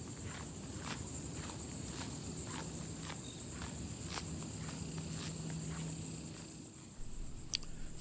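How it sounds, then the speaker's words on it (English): A man walks outdoors near a fishing and crabbing spot in St Augustine, Florida, his steady footsteps soft and spaced under a constant drone of crickets and insects. "It's funny, those footsteps you hear."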